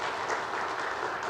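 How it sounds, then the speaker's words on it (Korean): A ceremony audience applauds at a church-led launch event in Busan, with steady, dense clapping throughout and no talk over it. "오늘 박수로 한번 드리겠습니다"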